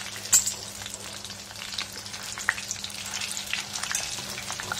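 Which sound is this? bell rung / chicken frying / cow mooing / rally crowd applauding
chicken frying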